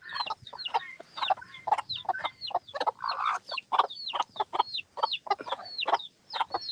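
A rooster and a few hens in a breeding coop cluck steadily and busily, with quick, repeated calls overlapping close by and no talking.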